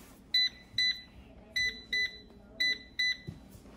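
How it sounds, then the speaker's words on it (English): An air fryer being set to 350 degrees gives six short electronic beeps, spaced in pairs, over faint background noise. "We're gonna go ahead and set the air fryer to 350."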